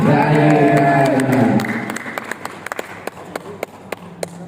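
A crowd at a gathering of village heads in Indonesia breaks into loud, dense applause that fades after about two seconds into scattered individual claps.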